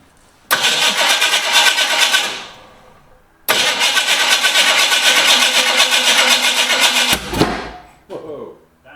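A 1968 Ford Mustang cranks and fires up, its engine roaring loudly for a second, cutting out, then catching again and running rough before stumbling off, with voices briefly audible at the end.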